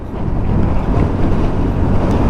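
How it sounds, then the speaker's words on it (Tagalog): Strong wind blowing at a hillside camping spot, a loud, continuous low rumble and buffeting across the microphone with no voices. "Malakas ang hangin."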